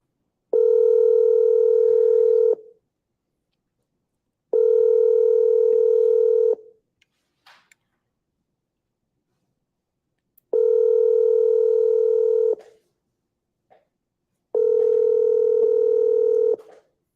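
Telephone keypad tones sound loud and clear in four evenly spaced bursts of about two seconds each, separated by silence, with faint clicks in the gaps.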